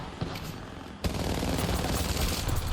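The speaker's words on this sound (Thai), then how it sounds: "ยิงเอาสะใจ" Rapid automatic gunfire in the video game Apex Legends, a dense continuous burst of shots that swells suddenly after a sharp onset, loud and sustained.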